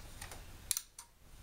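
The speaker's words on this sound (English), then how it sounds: "Clicking sound is still there" A faulty plasma TV with no picture gives a few sharp, quiet clicks at irregular intervals, heard close up with no talking.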